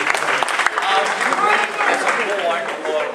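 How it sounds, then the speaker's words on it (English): Applause from the audience at a Throggs Neck homeowners association council forum, a steady patter of clapping under talk that goes on for the whole stretch. "They would like to clap and say thank you to all of you."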